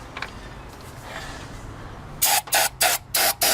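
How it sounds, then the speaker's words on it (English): Five short, loud hissing bursts of starting fluid sprayed from an aerosol can, evenly spaced, following a quiet stretch of low background noise. "spray this thing with some starting fluid and see if it actually starts"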